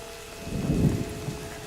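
Steady rain in the video game A Plague Tale: Innocence, a close, even wash with a low rumble swelling briefly in the middle, no talk.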